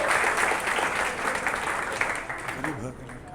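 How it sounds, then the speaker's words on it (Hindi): Classroom audience applauding a school-topper student, a dense burst of clapping that gradually thins and fades, with a voice beginning to speak over the tail end. "हाँ, तो चले तालियां बजाइए"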